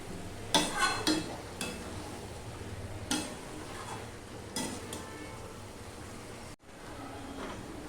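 Spiced jackfruit is stir-fried in a pan, a continuous sizzle with several sharp scraping strokes of a utensil against the metal, close by, briefly interrupted by a dropout near the end.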